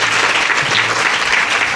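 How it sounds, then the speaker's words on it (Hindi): An audience at a Shrimad Devi Bhagwat Katha religious gathering breaks into loud, dense applause, a continuous wash of clapping throughout. "तालियों से स्वागत करें।"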